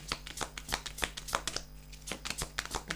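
Tarot cards are shuffled and drawn close by: a rapid run of crisp riffles and soft flicks in an uneven rhythm, quiet with no talking.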